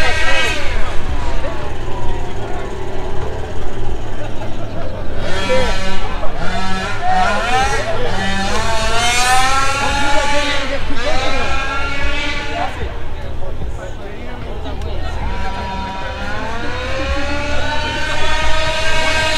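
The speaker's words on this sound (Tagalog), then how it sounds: "sorry for the noise, but there are people playing with RCs right now" Radio-controlled cars driven nearby at an outdoor breakfast car meet, with high-pitched electric motors whining and sweeping up and down in pitch as they speed past. The sound is loud and continuous, with crowd chatter underneath.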